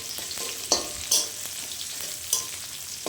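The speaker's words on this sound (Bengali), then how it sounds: "পেঁয়াজ রসুনটাকে ভালো করে একটু ভেজে নেব, কাঁচা গন্ধটা যাতে চলে যায়, লাল লাল করে ভেজে নেব।" Onion, green chilli and garlic paste frying in a wok, a soft steady sizzle broken by a few sharp scrapes of a spatula against the metal.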